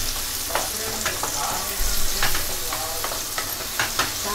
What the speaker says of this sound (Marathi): आता करूया गॅस मोठी आणि घेऊया परतवून.